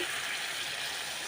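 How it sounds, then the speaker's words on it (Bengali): Mustard water poured into a simmering tomato fish curry in a home kitchen, a brief steady hissing gush close by. "এবার আমি দিয়ে দেবো সরষের জলটা যে আমি করে রেখেছিলাম"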